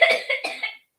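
A child coughs in a quick burst of three or four harsh coughs, close by, followed by a brief silence.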